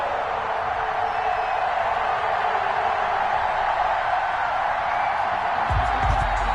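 A stadium crowd at a Kansas City Chiefs versus Denver Broncos football game in Kansas roars steadily and loudly, with an announcer talking over the constant wash of noise.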